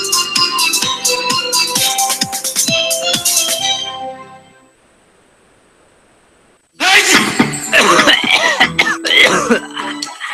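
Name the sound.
coughing in a cold medicine advertisement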